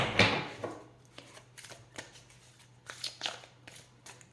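Soft riffling and slapping of tarot cards being shuffled, a burst of quick flutters then several short taps and shuffles in a quiet room.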